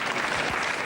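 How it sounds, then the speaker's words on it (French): A brief, dense burst of audience applause, steady and fairly loud, with no voices over it. "C'est clair, on peut l'applaudir."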